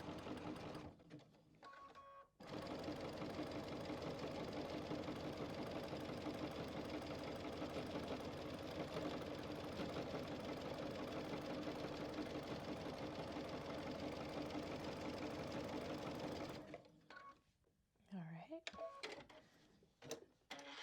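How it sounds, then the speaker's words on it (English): A sewing machine runs a continuous zigzag stitch along the edge of a quilted backpack gusset, a loud steady mechanical whirr lasting about fourteen seconds, framed by brief handling clicks and rustling. "now I'm going to do my zigzag stitch to protect that edge"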